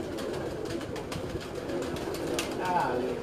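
Pigeons cooing at a rooftop pigeon-flying tournament in Gujrat, soft calls faint beneath outdoor background noise and a murmur of people nearby.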